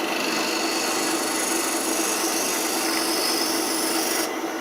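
Negative rake scraper cleaning up a wooden piece spinning on a lathe, giving a steady, continuous close-up rasping scrape with no pauses.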